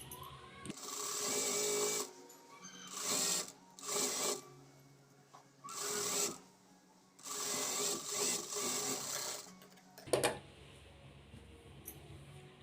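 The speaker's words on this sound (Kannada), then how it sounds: "ಈ ಥರ ಸ್ಟಿಚ್ ಮಾಡ್ಕೊಂಡಾದ್ಮೇಲೆ ಮತ್ತೆ ಇನ್ನೂ ಒಂದು ಸ್ಟಿಚ್ನ ಹಾಕ್ಕೋಬೇಕು." A sewing machine stitching a lined blouse, running in several loud close bursts of rapid mechanical whirring separated by short pauses, then a clunk and quieter handling at the end.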